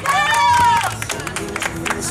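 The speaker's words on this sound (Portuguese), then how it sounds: "Uma salva de palmas para nossa homenageada" Applause from a crowd at a birthday party for the honoree, steady clapping that starts full and thins toward the end, with a voice speaking over it.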